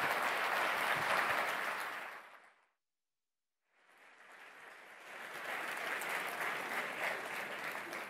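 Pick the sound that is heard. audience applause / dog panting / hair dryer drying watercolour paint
audience applause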